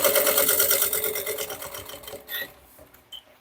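A sewing machine runs a fast, even stitch along the edge of a fabric crossbody bag, loud and close, then slows and stops with a few faint clicks and a brief final whir; no voice.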